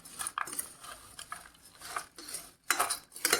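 A spoon clinks and scrapes against a bowl while spiced puffed rice is mixed with lemon juice and oil, in irregular bursts of close metallic clatter with brief pauses.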